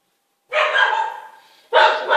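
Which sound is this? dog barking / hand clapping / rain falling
dog barking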